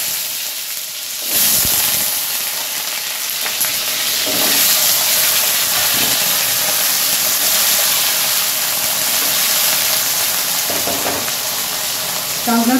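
Pieces of sweet pumpkin sizzle and hiss in a hot pan for a Bengali dish, a loud continuous frying crackle with scrapes and stirring knocks running throughout, no one talking.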